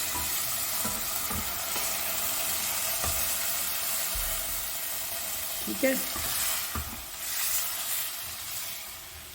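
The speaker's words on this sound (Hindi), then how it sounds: "और अब इसमें डालते हैं गलने के लिए हम पानी।" Water poured into sizzling mutton with almonds in a pressure cooker: a steady frying hiss with a few stirring scrapes and a brief bubbling surge as the water hits the hot pan.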